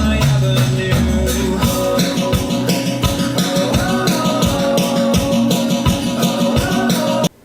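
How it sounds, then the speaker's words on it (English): Steady marching-band style snare pattern drives a full, loud song arrangement at an upbeat pace, with bass and sustained tones underneath and repeated rhythmic hits running continuously before stopping abruptly at the end. "I want a bit of a almost marching band style snare that keeps the pace nice and up."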